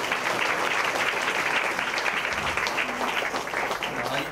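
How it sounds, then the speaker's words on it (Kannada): Congregation applauding for Shankar at a Sunday church service, dense sustained clapping from many hands at a constant loud level throughout. "ಎಲ್ಲ ಚಪ್ಪಾಳೆ ಹೊಡಿರಿ ಶಂಕರ್ ಅವ್ರಿಗೆ."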